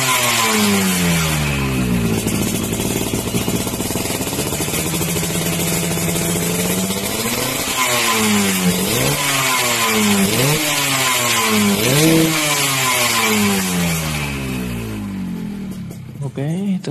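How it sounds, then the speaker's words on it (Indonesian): A Yamaha RX King motorcycle fitted with a YKJ racing exhaust revs repeatedly, settling near idle and then blipping the throttle in sharp rising and falling bursts, loud and close throughout. "cek sound dari YKJ Racing Exhaust"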